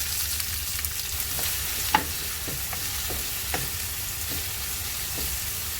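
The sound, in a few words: chopped onions frying in a pan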